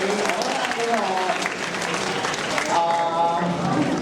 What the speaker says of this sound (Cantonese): 大家再俾多次掌聲咧！